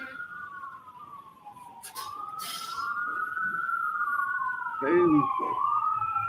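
Police sirens passing outside a courtroom, a wailing tone that rises and falls continuously at moderate distance, with a second siren layering in and brief voices and knocks over it.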